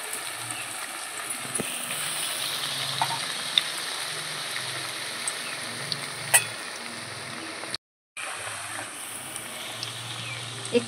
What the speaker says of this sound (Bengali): কড়াইয়ের তেল গরম হয়ে গেছে, এখন আমি ভেজে নেব।